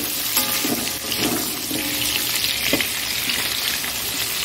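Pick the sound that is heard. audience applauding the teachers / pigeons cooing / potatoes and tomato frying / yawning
potatoes and tomato frying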